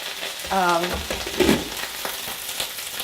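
Steady sizzling of onions frying in a hot pan fills the background, with a brief clatter and some tonal sound partway through.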